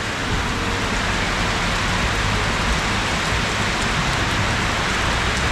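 A heavy tropical downpour in Phuket, Thailand, pours down as a dense, steady, loud roar of rain with no let-up and no voices.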